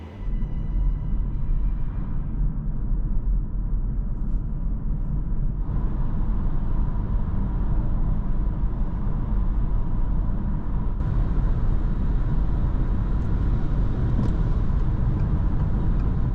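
Interior road noise of a 2016 Peugeot 508 RXH BlueHDI 180 diesel on winter tyres with bonded glass, a steady low rumble and tyre roar, continuous and even, growing slightly brighter as speed builds.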